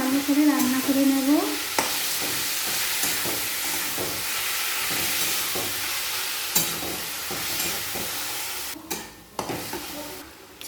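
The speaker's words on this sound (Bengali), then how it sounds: "চিকেন তেলের মধ্যে দিয়ে দেব। পুরো চিকেনটা দিয়ে দিলাম। এরপর নাড়াচাড়া করে চিকেনটাকে ভালো করে রান্না করে নেব।" Chicken frying in hot oil while being stirred, a continuous sizzle with regular scraping and clinking strokes of the spatula in the pan, heard alone without talk.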